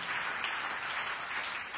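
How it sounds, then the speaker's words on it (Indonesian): A church congregation applauds steadily during a sermon, many hands blending into a continuous even roar of clapping, fairly distant and unbroken. "Tepuk tangan yang meriah untuk kemuliaan."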